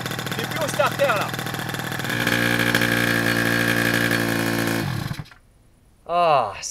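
A Piaggio Zip SP 70cc racing scooter engine runs at a steady buzzing idle, close and loud, then cuts out briefly before a voice speaks near the end.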